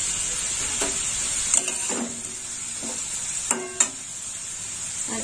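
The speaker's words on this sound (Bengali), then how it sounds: "দিয়ে দিলাম রাঙা আলুটা একটু ভাজা হবে।" Sweet potato frying with turmeric powder in a pan: a steady close sizzle runs throughout, broken by a few sharp stirring scrapes and clinks from a spatula, with no talking.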